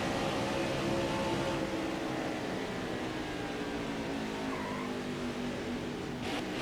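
A race car engine in the NASCAR Heat 5 video game at Pocono drones steadily at speed down a straightaway, a sustained buzzing hum with faint tire noise and no talk.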